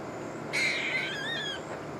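A newborn baby bird cries for food with a thin, high, wavering call that rises and falls for about a second over quiet background hiss, then fades out.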